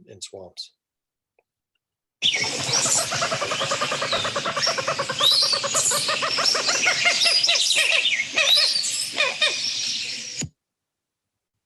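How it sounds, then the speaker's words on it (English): Common gallinule in a vegetated marsh giving its call: a long, loud, rapid run of clicking, squealing chatter lasting several seconds, preceded by a brief spoken word and ending abruptly. "So that's the call of a common gallinule."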